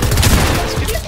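Burst of gunfire in a shooter video game, a loud, dense cluster of rapid shots and booms packed into about a second with no pause.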